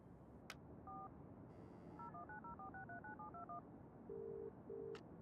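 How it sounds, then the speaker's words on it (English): A telephone being dialed in the video game Broken Sword: The Sleeping Dragon, a quiet run of quick keypad tones followed by two longer ringing tones with clicks, over a low background hum. "Perhaps I should make a call."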